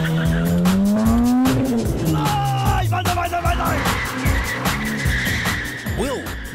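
A Ford Falcon XR8 with 350 horsepower of V8 power racing hard, tires squealing and skidding over a loud, rising and falling engine note that stays up close throughout.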